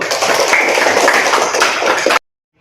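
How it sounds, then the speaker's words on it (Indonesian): A classroom of students claps together in a dense, loud burst of applause that lasts about two seconds and then stops abruptly, with no talking over it. "tepuk tangan dulu"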